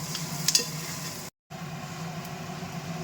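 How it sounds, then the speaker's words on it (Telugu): Chicken curry with green chillies, curry leaves and mint sizzles in a pan while being stirred, a steady hiss with a few scraping touches and one brief dropout. "కొద్దిగా పుదీనా వేసుకొని కలుపుకొని"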